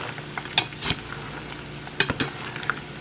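Peanuts being stirred and toasted in a pan, soft frying hiss under a few sharp scrapes and clicks of the stirring utensil, close, without talk.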